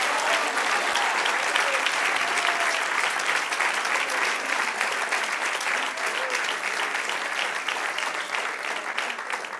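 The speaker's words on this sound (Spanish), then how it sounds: "Del otro aplauso al Señor." Loud, sustained applause fills a church service, a congregation clapping steadily and densely throughout with no break.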